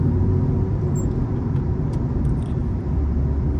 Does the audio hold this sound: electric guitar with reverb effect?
no